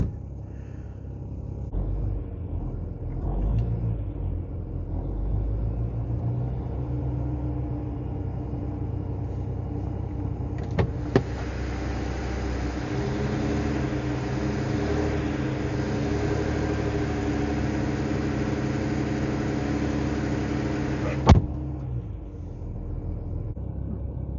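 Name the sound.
BMW N54 engine running after first start, lifter tick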